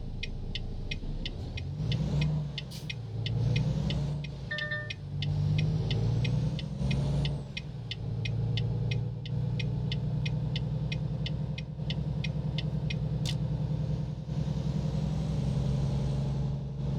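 A truck engine in American Truck Simulator labours up a hill, a loud droning rumble rising and falling with throttle, joined by a regular ticking chime and brief clicks, with no talk.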